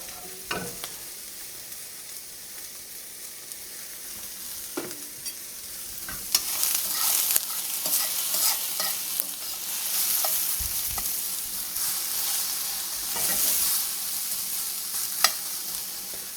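Bacon fries in a pan with a constant close sizzle and spitting fat, broken by a few sharp clinks and scrapes from handling the pan.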